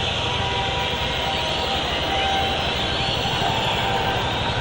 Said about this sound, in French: Public qui siffle, bien entendu, qui voudrait la délivrance